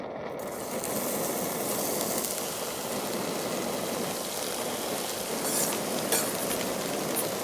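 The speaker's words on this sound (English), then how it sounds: "We're going to saute them in melted vegan butter." Vegetables and spinach sauté in melted vegan butter at a camp stove during motorcycle camping in Vermont, giving a dense, continuous close sizzle with faint clicks and no voices.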